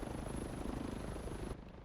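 A helicopter in Call of Duty Warzone crashes, with a loud, dense whirring rotor roar that churns steadily before cutting off abruptly into quieter noise near the end.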